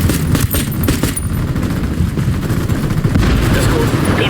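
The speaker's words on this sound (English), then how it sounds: "Opening fire." Gunfire in the video game Ghost Recon Wildlands, a loud, close, continuous volley of rapid shots with heavy low rumble throughout, a few sharper cracks standing out early on.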